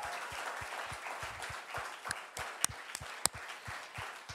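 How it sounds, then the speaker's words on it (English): Audience clapping at a book launch event, a steady, fairly faint patter of many hands with a few sharper individual claps standing out, no voices over it. "a thundering round of applause for the verdict, guys"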